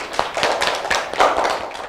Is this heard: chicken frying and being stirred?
no